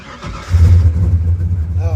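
A car engine cranks and catches, then settles into a low, rumbling idle, close and loud, with a voice speaking over it.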